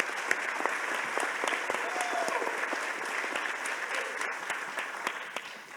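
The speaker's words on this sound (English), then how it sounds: "So a big round of applause to our fantastic panel" A conference audience at a criminal justice summit plenary applauds a panel, with dense, sustained clapping that stays fairly even, then slowly thins out toward the end.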